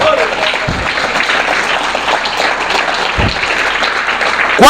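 Congregation at a Mexican church service applauding steadily and loudly throughout, a continuous dense clatter of many hands with brief voices and shouts rising over it.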